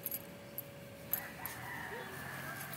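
Free-roaming farm chickens cluck and call faintly at a distance, a few short bright notes scattered over steady low outdoor background noise, with one slightly louder call near the middle.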